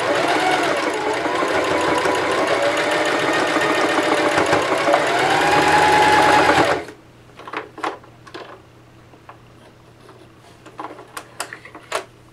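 Singer 5554 heavy duty sewing machine stitching mask fabric with a fast, steady mechanical chatter for about seven seconds, then stopping; scattered small clicks and handling taps follow in the quieter stretch.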